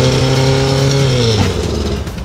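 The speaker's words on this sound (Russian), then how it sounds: "Машина сама едет, слышишь?" Engine of a moving car running with no driver, a loud steady drone whose pitch glides down before easing off, close by with no talk.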